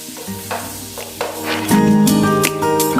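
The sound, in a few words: garlic and ginger frying in butter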